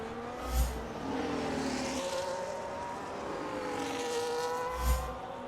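A McLaren and an Alpine race car in a racing video game at the Brazil round hold a steady, sustained engine whine with slowly shifting pitch, two brief thumps punctuating the continuous drone, no voices.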